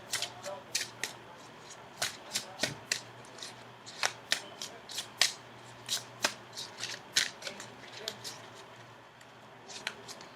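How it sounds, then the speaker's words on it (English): Tarot cards are shuffled by hand in a string of crisp riffling bursts and sharp taps, repeating irregularly at close range in a quiet room. "go ahead and shuffle for your outcome card"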